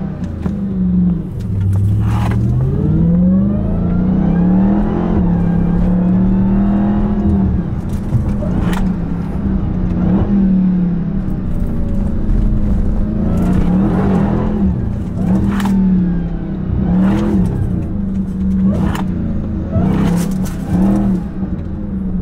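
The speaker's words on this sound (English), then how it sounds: "That Hellcat sound." Dodge Hellcat engine revving while driving downtown in Philadelphia: a deep, loud, close growl that climbs and falls in pitch through repeated pulls, with short bursts of mechanical noise and no talking.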